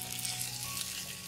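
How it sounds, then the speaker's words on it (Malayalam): Egg roasting in coconut oil in a pan, a dense, continuous close sizzle and crackle of hot oil with no talk over it. "മുട്ട ഇതുപോലെ നന്നായിട്ട് ഈ ഒരു വെളിച്ചെണ്ണയിലേക്ക് ഇരുന്നിട്ട് ഒന്ന് റോസ്റ്റ് ആയിട്ട് വന്നിട്ടുണ്ട് കേട്ടോ"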